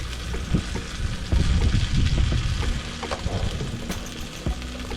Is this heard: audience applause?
no